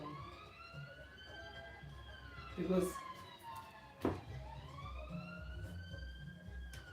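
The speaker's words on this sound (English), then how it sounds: "is it not the ambulance?" A police or ambulance siren sounds in the distance, its rising and falling wail faint behind a person talking nearby, with a couple of louder knocks partway through.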